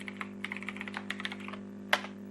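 Rapid typing on a computer keyboard while writing JavaScript code, a steady run of light, quick clicks close up over a low hum, ending with one sharper, louder keystroke.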